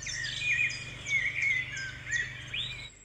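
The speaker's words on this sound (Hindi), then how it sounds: "सुबह सुबह पशु पक्षियों की आवाज़ और हरे भरे पेड़ पौधे," Birds chirp and twitter in the morning around a power substation surrounded by green trees, a steady stream of overlapping bright calls with a low electrical hum beneath, no voices.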